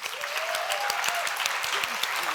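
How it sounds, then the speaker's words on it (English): Audience applause at an animal rights national conference welcome plenary, a steady dense patter of many hands clapping throughout, moderately loud and fairly close, with no talking over it. "I would like to really give a warm round of applause to Ethan Eldrith."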